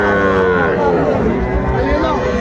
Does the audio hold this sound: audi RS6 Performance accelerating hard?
no